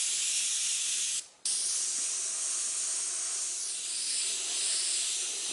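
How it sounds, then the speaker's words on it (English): Steady close-up airbrush hiss spraying purple candy paint, running almost continuously, broken by one very brief pause before resuming at the same even level. "Now when I'm spraying the purple candy on this time,"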